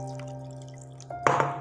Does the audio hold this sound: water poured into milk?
yes